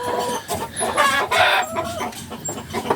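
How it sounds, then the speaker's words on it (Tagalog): A 10-month-old Rhode Island Red chicken clucks close by, with repeated short throaty calls and some squawking from nearby fowl. "Rhode Island chicken. 10 months old."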